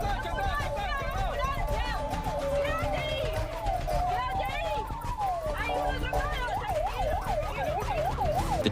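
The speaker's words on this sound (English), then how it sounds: "The police turned on the sirens" Police car sirens wail and yelp in a rising, falling chase over a loud engine and road rumble, with fast warbling sweeps near the end.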